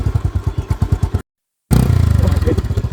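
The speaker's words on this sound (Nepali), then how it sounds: "गाइज बाइक फसेको अवस्था छ यता तपाईँ देख्न सक्नुहुन्छ।" A motorcycle engine putters in a rapid, even rhythm while the bike is stuck on a rough off-road track, loud and close, cutting out briefly before resuming with a harder, denser chug.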